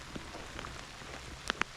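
Rain falling outdoors in the woods at a sniper shooting match, a steady light patter on surfaces with a couple of sharper drop taps near the end.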